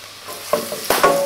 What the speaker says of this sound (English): Now they're being fried off in about a tablespoon of oil and 40 grams of butter.